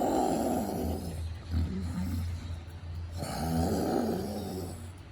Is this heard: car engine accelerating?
no